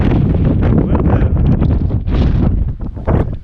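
Strong wind of about 50 mph with gusts roars across the summit of Mount Madison in the Northern Presidentials, a loud, continuous buffeting rush battering the microphone throughout, with no voices.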